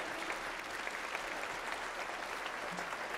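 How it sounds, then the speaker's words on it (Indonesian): A seminar audience claps steadily throughout at a business talk for the Diplomat Success Challenge, season 15, a dense, even wash of applause with no pause and no talk over it. "Mana tepuk tangannya, saya mau dengar"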